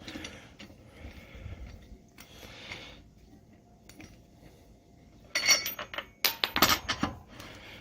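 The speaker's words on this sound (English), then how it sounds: "we're going to put the wrench back in. We're just going to spin these guys off." A lug wrench spins wheel nuts off a car's studs during a tire rotation, giving metallic ratcheting clicks and clatter that grow louder and busier in bursts toward the end, with no talking.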